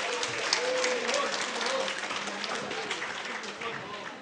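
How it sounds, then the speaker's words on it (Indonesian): Audience applause at an ITB alumni evening gathering, a crowd clapping steadily at moderate volume while a voice speaks over it and faint tonal sounds drift in the background. "Tepuk tangan."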